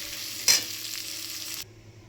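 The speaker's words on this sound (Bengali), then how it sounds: "পেঁয়াজটা ভাজা হচ্ছে" Onion sizzles gently in oil in a pan, one brief stirring scrape near the start, then a steady low frying hiss that cuts off abruptly.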